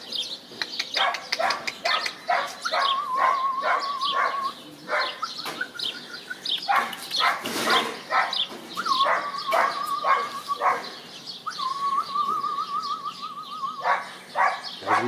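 Hunting dogs bark in quick, irregular bursts during a hare hunt, moderately close, with a piercing whistle-like call cutting in repeatedly and bird chirps scattered through the background.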